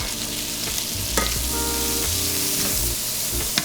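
Chopped shallot hits a hot pan alongside green beans with crispy pancetta, a steady loud sizzle with a few light clinks of stirring throughout.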